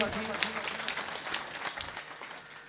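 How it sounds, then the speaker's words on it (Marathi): A crowd at a kirtan festival claps for itself, scattered applause rising and thinning over a few seconds beneath a speaking voice. "पुन्हा एकदा टाळ्या वाजवा स्वतःसाठी"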